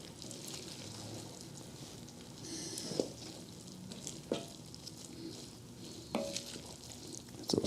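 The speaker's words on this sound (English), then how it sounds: "stir that in a little bit." Tomatoes stirred into a hot pan, with a steady low sizzle and a few sharp scraping clicks of the utensil against the pan, close and fairly quiet.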